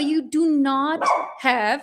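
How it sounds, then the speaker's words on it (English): A dog barks several times nearby in a loud, strained run of barks and yips over roughly two seconds, with a person talking over it. "That's my dog."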